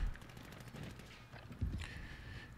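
Gunfire from the Basilisk snub nose revolver in a video game, a few sharp shots and a heavy blast near the middle amid busy game noise, fairly quiet overall.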